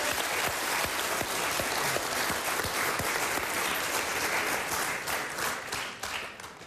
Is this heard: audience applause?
yes